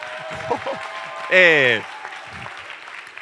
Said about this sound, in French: qu'on fait une acclamation de joie